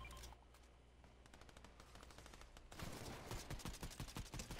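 Gunfire in Fortnite: a rapid string of distant shots, then louder, denser bursts of automatic fire close by, sharp repeated cracks with no talking over them.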